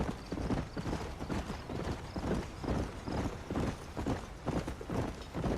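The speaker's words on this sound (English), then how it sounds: "O cavalo podia andar mais rápido" Horse hooves walking in the video game Red Dead Redemption, a steady, evenly paced clip-clop that is clear and close throughout, with no talking.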